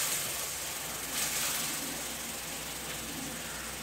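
Yellow capsicum sautéing in a pan while fried rice is prepared: a steady, soft broadband hiss of frying that holds evenly throughout, with no talk.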